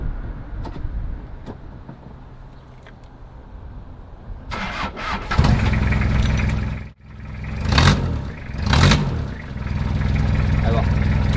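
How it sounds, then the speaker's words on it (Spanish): A van engine with a broken exhaust idles roughly at first, then roars louder and harsher with two surging revs, a deep rattling rumble close by. "el ruido que empezó a hacer después de que se rompió el escape"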